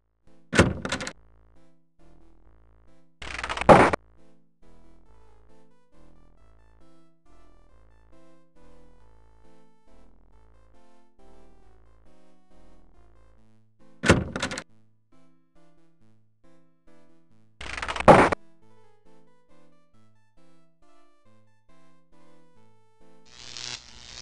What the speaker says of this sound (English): You unlock the door to your room and go in.